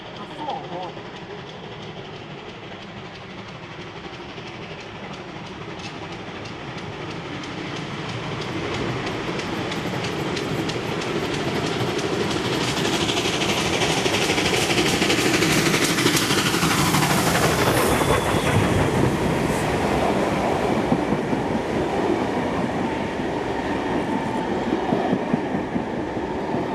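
Passenger train 5917 rolls through Mortdale station, a sustained rumbling roar that builds steadily as it nears, with rattling wheel clatter and faint squeal running throughout.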